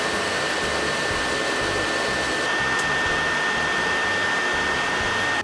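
Steady, loud whirring fan noise from a PS4 Pro console roars continuously without any breaks, a dense broadband rush with a faint high whine running through it, and no speech.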